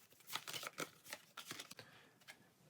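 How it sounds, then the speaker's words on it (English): A deck of game cards for the Pathfinder Adventure Card Game is shuffled close up, a quiet run of quick riffling flutters and soft slaps repeating for a few seconds. "and then shuffle our deck."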